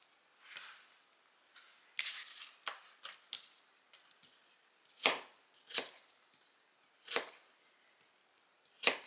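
A knife trims and slices apples in a kitchen, giving crisp, close chopping clicks in an irregular series, some sharper and louder than others, with quiet gaps between cuts.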